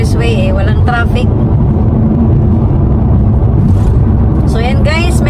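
A car cruises along a smooth, traffic-free expressway in Japan, its steady road and engine roar loud and continuous from inside the cabin, with someone talking over it.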